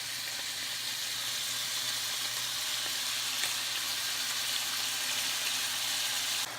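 Meat pieces searing in a hot pan, a constant close sizzle and hiss with a faint low hum underneath, steady throughout without talk.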